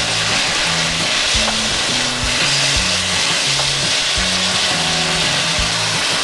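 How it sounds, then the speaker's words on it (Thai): Shredded papaya and garlic stir-fry in a pan with a splash of water, a constant loud sizzle under steady, rhythmic scrapes and knocks of a spatula against the pan. "ผัดมะละกอกับกระเทียมให้มะละกอเริ่มสุกใสนะคะ"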